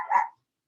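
Dog barking indoors during a thunderstorm: one short, loud, near bark with a little growl, alone and without talk.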